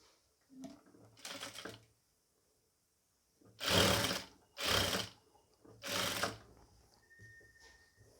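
A sewing machine stitches dark piping onto a round-yoke pleated nighty, running in short bursts: a couple of brief ones, then three louder close runs separated by brief pauses.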